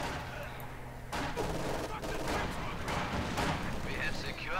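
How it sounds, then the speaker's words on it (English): Dense gunfire and explosions rumble through a Company of Heroes 2 battle, with MG42 machine-gun bursts and artillery layered in a loud, continuous barrage under strained in-game soldier shouts. "The bastards are shooting at us!"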